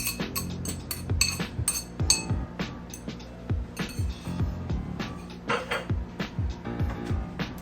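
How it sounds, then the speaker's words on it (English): A fork clinks rapidly and unevenly against a bowl while mixing breakfast ingredients, a dense run of close, bright taps with no talking. "Get your handy dandy fork and mix these things up."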